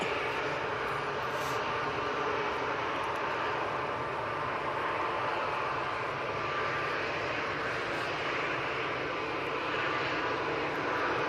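A TUI Boeing 737 departing, a steady broad jet roar held at constant loudness throughout, dense and fairly distant with no voices over it.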